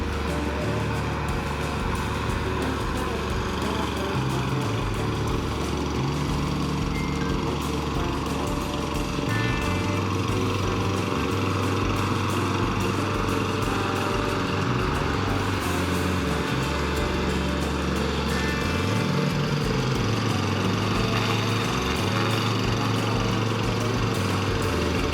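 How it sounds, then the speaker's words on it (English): A smoking lawnmower engine runs steadily and loud for the whole stretch, a constant buzzing drone with slight wavering pitch as it works across the yard. "that lawnmower is smoking"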